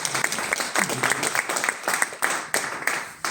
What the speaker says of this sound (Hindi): एक ताली हो जाए, मजा आता है।